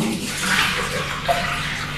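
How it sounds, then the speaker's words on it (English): Aloe vera skin and flesh being washed in clean water, a steady broadband splashing and running-water wash that holds at a fairly even level throughout, with no talk. "Wash with clean water to clean the dirt that stick."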